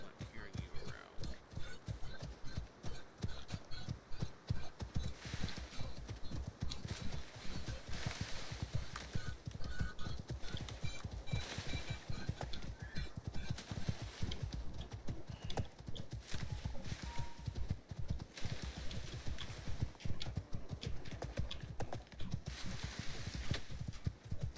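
Horse hooves clop in a quick, continuous rhythm as a mount gallops across rocky alien terrain in a video game, sharp and close throughout with faint background noise.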